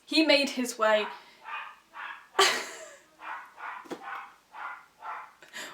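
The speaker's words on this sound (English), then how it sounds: "That is my dog. He's getting excited because he's going for walkies." A pet dog barks excitedly before a walk, repeated sharp yips in a steady rhythm close by, with a person talking over the start and middle.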